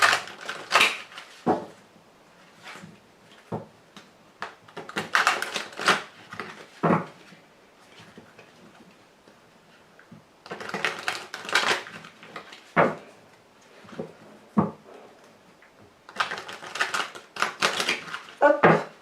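A tarot deck being cut and shuffled by hand: bursts of crisp card riffles and slaps in irregular clusters, close and fairly quiet, separated by brief pauses, with no voices.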